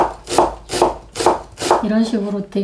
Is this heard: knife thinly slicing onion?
yes